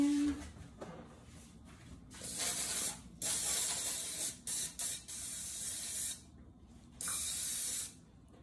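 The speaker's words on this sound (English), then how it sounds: "Spray the pan." Cooking spray hisses from an aerosol can onto a pan in several bursts of differing length with short pauses between them, sounding close and fairly loud.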